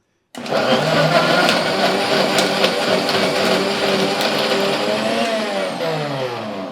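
A kitchen mixer grinder blends bael fruit pulp with water, starting abruptly and running as a loud, steady, close whirring drone for about six seconds.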